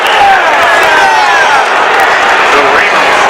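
Crowd noise from spectators at the 2013 NCAA wrestling championships, a loud, sustained roar and shouting filling the arena for several seconds with no break.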